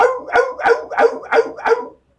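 Five or six evenly spaced barks ring out in a quick series, close and fairly loud, with no talk over them.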